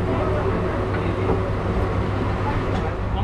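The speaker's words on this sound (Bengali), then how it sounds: "ট্রেন এখন ছাড়লো কুলপি স্টেশন থেকে" A local train on the Lakshmikantapur–Namkhana line pulls out of Kulpi station with a steady, heavy rumble and low-pitched drone heard from onboard, loud and continuous.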